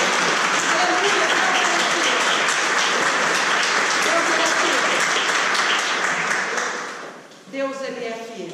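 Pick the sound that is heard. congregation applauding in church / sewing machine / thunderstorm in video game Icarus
congregation applauding in church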